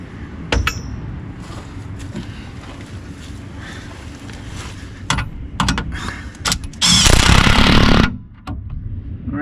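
A hand wrench clicks and clanks while shock absorbers are fitted on a 1966 Plymouth Belvedere, with scattered metallic taps and a louder burst of rapid ratcheting near the end.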